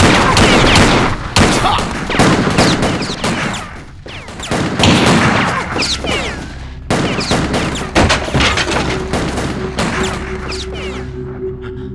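Dense gunfire from a shootout in a dubbed South Indian action film, loud repeated bursts and volleys running through the scene with a few brief gaps and a lingering tonal hum near the end.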